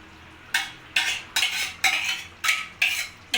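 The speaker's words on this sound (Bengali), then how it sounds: "এবার ভালো করে নাড়িয়ে দেবো" A spoon scrapes around a pan of amudi fish curry topped with chopped coriander, about seven regular, close stirring strokes, each a rough scrape with short pauses between.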